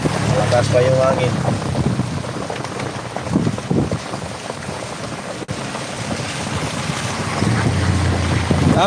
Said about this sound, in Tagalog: Malakas pa yung hangin.